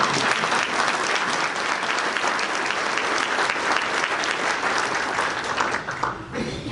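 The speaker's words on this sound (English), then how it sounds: "give a round of applause for Jenny" Loud, sustained audience applause at a Lincoln Day Johnson County Republican event in Indiana, dense clapping filling the room for several seconds before tapering slightly at the end, with no talk over it.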